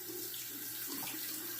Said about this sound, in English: I'm going to wet the razor